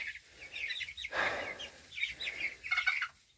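Pasture-raised chickens at a feeder, making busy clucks and higher calls in overlapping bursts, fairly close, with quiet gaps between.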